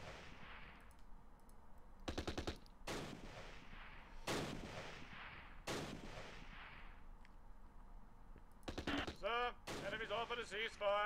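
Gunfire in the Close Combat Last Stand Arnhem war video game: several sharp, loud bursts of rifle and machine-gun fire separated by pauses, ending in a dense rapid volley, with game voices in between.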